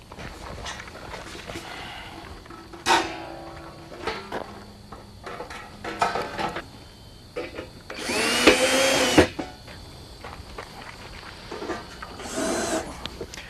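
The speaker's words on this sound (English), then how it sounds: "fasten the top plate to the vertical with 3 self-tapping screws" A power drill drives self-tapping screws through a top plate into the verticals of an Atlantic round aboveground pool, with short close whirring bursts, the loudest and longest near the middle, separated by handling noise.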